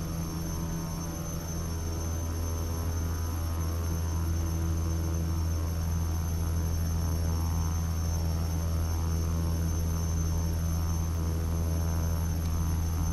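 A King Air C90B turboprop engine idling while taxiing in Flight Simulator X, a steady droning hum with constant tonal whine, unchanging and alone for the whole stretch.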